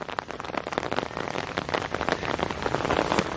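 Steady rain patters densely on a surface nearby on a mountain path below a glacier in Georgia, a continuous crackling hiss of drops with no voices.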